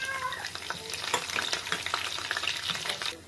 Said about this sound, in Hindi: जैसे ही जीरा हमारा क्रैकल होना स्टार्ट होएगा तो इसमें कड़ी पत्ता जाएगा।